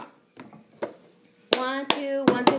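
Cup song rhythm with clapping hands, taps and a cup dropped on a table, a few soft knocks first and then sharp percussive hits while a voice speaks over them.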